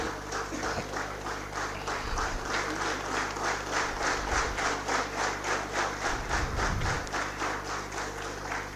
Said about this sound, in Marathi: तुम्ही टाळ्या वाजून करावा